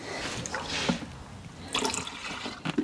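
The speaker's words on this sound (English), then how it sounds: "I'm gonna rinse that with the hose pipe and finish pouring it in here." A garden hose rinses out a container of lawn fertilizer with a steady, splashy rush of running water, close and continuous, with slight surges as the stream shifts.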